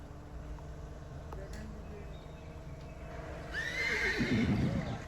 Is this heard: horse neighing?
yes